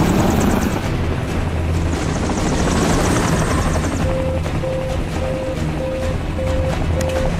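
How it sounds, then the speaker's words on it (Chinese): A rescue helicopter flies through strong turbulence, its loud rotor roar steady and close throughout, with a repeating electronic warning beep joining halfway through. "气流过大，飞机状态保持困难"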